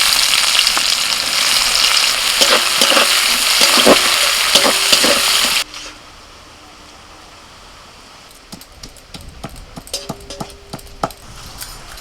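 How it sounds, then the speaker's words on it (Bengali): Black cumin seeds and chopped onion hit hot oil in a pan after frying fish, giving a loud, broad sizzle with scraping stirs that cuts off abruptly to a quiet hiss, then light taps resume. "ফোড়নে দিচ্ছি কালো জিরে, পেঁয়াজ কুচি"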